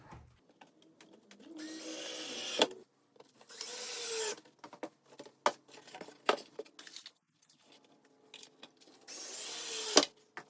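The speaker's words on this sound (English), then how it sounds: "painting to the frame using these little 1-inch drywall screws" A power driver sets small one-inch drywall screws into a picture frame, with short whirring bursts between clicks and handling knocks, close up and fairly quiet.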